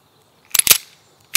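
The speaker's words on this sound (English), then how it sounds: "today we're going to be shooting this beautiful stainless Beretta 92FS" A stainless Beretta 92FS pistol fires at a target downrange. Two sharp shots come in quick succession, and a third shot lands just at the end.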